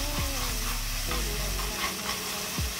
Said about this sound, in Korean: 이제 토마토 소스 대략 1컵 정도 넣어주고